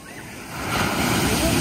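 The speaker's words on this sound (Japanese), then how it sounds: "すごいね、波" Sea waves surging and breaking on the shore during a leisure fishing outing, the rushing wash swelling from quiet to a loud, steady roar midway through.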